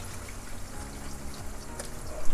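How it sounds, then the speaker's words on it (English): Meat broth water from oxtail and chicken poured into a cooking pot, a soft close splashing pour with light trickling that ends in a few louder splashes. "So the water from this, I'll be adding into this."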